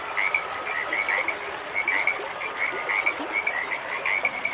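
Frogs croak as a sound effect in a dense chorus of repeated croaks and trills over a low background hum, steady throughout, with no talking.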